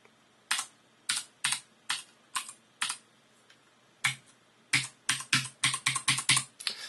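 Keystrokes on a Cooler Master CM Storm Trigger mechanical keyboard, sharp clicky taps arriving in irregular bursts with short pauses between, close and clear in a quiet room.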